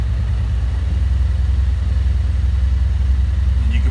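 A 2019 Yamaha Wolverine X2 side-by-side's engine runs at a steady, close, loud idle, a low pulsing rumble with no audible starter and no talking.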